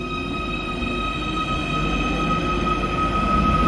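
A Merseyrail train runs steadily with a constant rumble and a few high whining tones, heard from on board at a close, even level with no talking.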